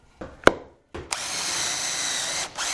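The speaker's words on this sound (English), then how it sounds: "I'm going to go ahead and secure it, and I'm going to use pocket screws on this one" Power drill whirring as it drives pocket screws into cabinet wood for a DIY hutch: a short burst, a pause, then a steady, loud run of about one and a half seconds that slows at the end.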